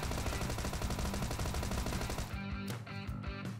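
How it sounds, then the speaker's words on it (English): Rapid, sustained gunfire from a video game, loud and dense, with automatic bursts running almost continuously before breaking into a few separate sharp shots near the end. "Shots up here too."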